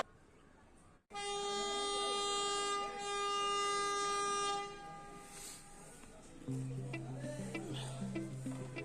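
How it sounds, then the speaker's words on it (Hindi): A meter gauge train departing Nanpara junction sounds a long, loud horn blast, then rolls off with a steady low rumble and rhythmic clatter of wagons over the rails. "हमारी ट्रेन को भी यहाँ से चलने का सिग्नल दे दिया जाता है"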